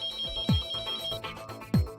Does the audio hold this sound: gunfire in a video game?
no